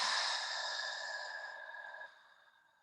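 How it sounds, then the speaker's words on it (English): A slow, deep exhale through the mouth during a calming yoga breathing exercise. One soft, breathy, airy rush of breath starts at its strongest and tapers gradually over about three seconds. It is close and quiet, with no talking over it. "And then exhale out through the mouth."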